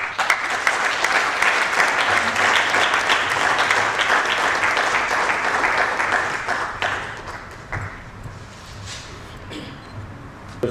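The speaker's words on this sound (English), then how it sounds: "request the gathering to welcome him with a warm round of applause" Sustained applause from an audience at an inaugural function fills a hall. It stays full and steady for several seconds, then thins and tapers off near the end.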